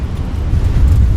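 Engines of a Fenix A320 airliner roar in reverse thrust inside a flight simulator, a loud low rumble that holds steady and swells slightly.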